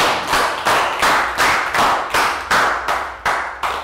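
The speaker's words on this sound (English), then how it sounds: "Big round of applause for Claire" Rhythmic group clapping in a primary school classroom for a Year 3 student, about nine evenly spaced sharp claps in a steady beat, close and fairly loud.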